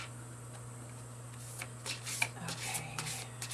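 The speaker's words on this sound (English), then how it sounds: "One more shuffle and we'll see what the tarot has to add." Tarot cards being shuffled by hand, a quiet run of soft riffling ticks and flutters that thickens in the second half over a steady low hum.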